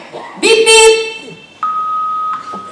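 An answering machine sounds a single steady electronic beep, loud and close, lasting under a second, after a short tonal vocal sound that may be a voice imitating it.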